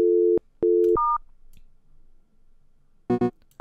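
A phone dials out a call: a few loud electronic tone beeps in quick succession, a brief quiet gap, then a short burst of ringing tones near the end.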